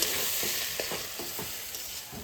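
Shredded cabbage frying in a pan gives a soft continuous sizzle with a few light stirring scrapes and taps, quiet and close, no talk.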